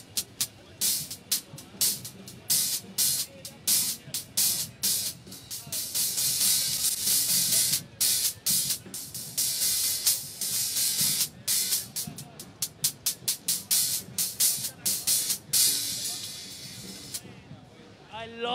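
Amedia Q series hi-hat cymbals played at a trade show, with crisp, clean bursts of sizzling strikes in quick irregular rhythm, close and fairly loud, people talking in between.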